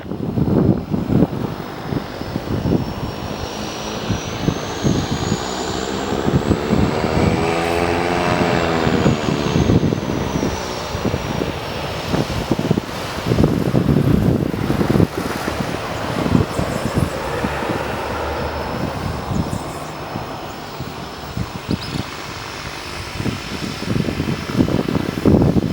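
An Ameriflight Beech 99 twin-turboprop departing from a taxiway intersection at St Kitts Airport, its propeller drone loud and rising in pitch then sweeping past, with heavy wind buffeting the microphone throughout.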